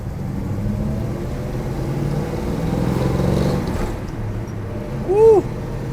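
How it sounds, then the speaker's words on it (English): A 1971 Chevrolet Nova with a 350 V8, basic manifolds and a 4-speed drives along, its engine giving a steady, low, throaty drone from inside the car, with a brief sharp chirp near the end. "For just having a pair of manifolds, this thing sounds pretty throaty."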